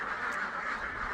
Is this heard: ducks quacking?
yes